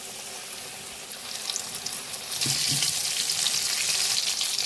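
Mushroom pakoras in batter fry in hot oil over a medium flame; the bubbling sizzle is moderate at first, then grows louder and fuller partway through and stays steady.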